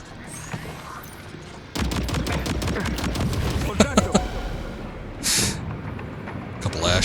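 Gunfire in Death Stranding 2 bursts out as a rapid volley of close, loud shots, then a few heavier single cracks and a blast of hissing noise, with a voice speaking over parts of it.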